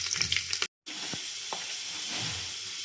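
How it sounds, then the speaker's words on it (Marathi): Cumin and mustard seed tempering, with cut garlic cloves, sizzles in hot oil for rice, a loud continuous frying hiss with a brief dropout of sound partway through. "मस्त अशीच फोडणी देऊ."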